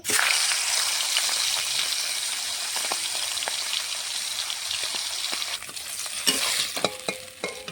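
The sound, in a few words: fish head frying in mustard oil in a wok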